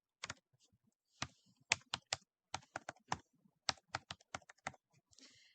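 Keys tapped on a computer keyboard as a line is typed, a close, quiet run of crisp clicks in uneven bursts with short pauses between them, in an otherwise silent room.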